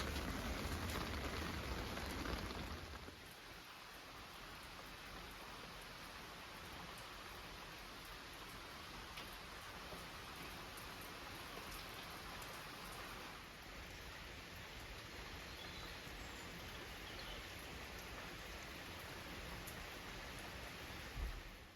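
Steady rain pours down outside a homestead in northeast England, a dense, even hiss that stays loud and constant throughout, slightly heavier at the very start, with no voices.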